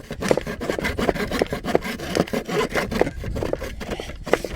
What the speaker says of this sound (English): I didn't know my saw was so blunt.